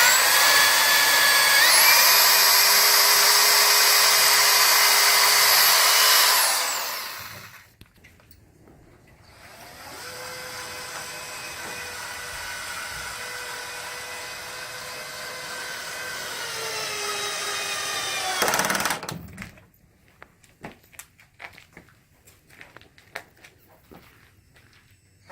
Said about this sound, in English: I'm not really pressing down on the drill